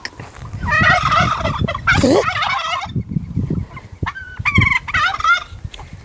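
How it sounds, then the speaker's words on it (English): A baby turkey gobbles loudly and close by in rapid warbling bursts, repeated a few times, with chickens and other fowl noises around it. "There's the baby turkey."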